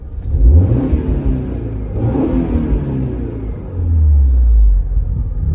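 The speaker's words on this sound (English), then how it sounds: "You want to hear the engine instead." A 1996 Alfa Romeo GTV engine revs while sitting in traffic, two sharp blips climbing and falling in quick succession, then a deep, loud rumbling drone as the revs are held, close and without talking.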